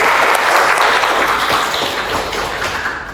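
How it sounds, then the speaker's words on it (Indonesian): A group of students in a classroom receives a burst of clapping from classmates, a dense, loud patter that carries steadily and then fades slightly toward the end. "Berikan aplaus buat kelompok"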